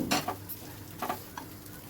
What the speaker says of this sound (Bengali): গ্যাসের ফ্লেমটা মিডিয়াম টু হাইতে রেখেছি, আর সব কিছু ভালো করে মিশিয়ে নিচ্ছি